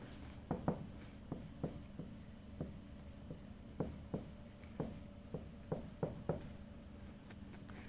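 Chalk or marker writing on a board during a physics lecture on inductance, a series of short scratchy strokes and taps in an irregular rhythm, moderately close and alone with no voice.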